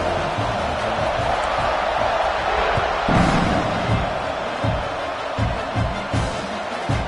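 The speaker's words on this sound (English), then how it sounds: "this crowd is buzzing after that last score" Football stadium crowd after a touchdown and extra point, a steady broad roar of buzzing fans with scattered thumps and bangs, loud and continuous for several seconds.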